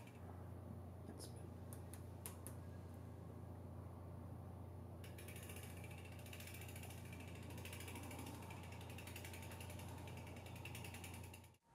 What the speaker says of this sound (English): loosen the adjuster on the side with pad rub in quarter turn increments until it is gone